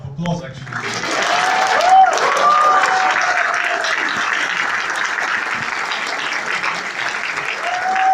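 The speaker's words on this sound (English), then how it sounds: "I think she deserves another round of applause" Book launch audience in London breaks into sustained applause, steady dense clapping from a room of people lasting several seconds, with a voice briefly heard at the start.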